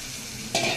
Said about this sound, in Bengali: এবারে আর একটু জল দিয়ে দিচ্ছি